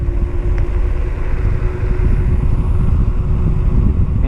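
Varla Eagle One electric scooter cruising at about 20 mph, a steady low rumble of motor and road with wind buffeting the microphone, loud and continuous with no talking.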